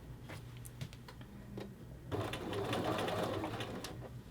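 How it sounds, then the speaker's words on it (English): A sewing machine takes stitches on a men's shirt collar band seam, quiet rapid ticking at first and then a denser, louder whirring run for the back stitch, with faint clicks and handling. "Take some stitches, back stitch."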